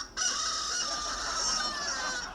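Recorded rooster crow played from a sound module built into a trash can themed on the Bremen Town Musicians; one long, bright, electronic-sounding cock-a-doodle-doo starts abruptly and holds for over two seconds, fairly near, with no talk.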